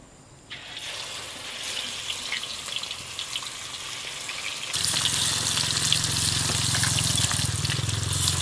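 Chicken pieces frying in hot oil in a pan, a dense continuous sizzle close by that grows suddenly louder and crackling partway through as more chicken hits the oil.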